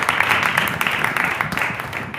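Congregation applauding during a Hindi-language church sermon, a steady wash of many hands clapping together for about two seconds, fairly loud and continuous with a faint voice or two mixed in.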